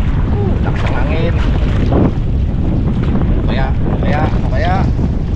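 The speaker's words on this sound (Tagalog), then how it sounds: "Lakas ang hangin." Strong northeast monsoon wind buffets the microphone in a constant loud roar on a fishing trip, with water and boat noise beneath and voices talking over it.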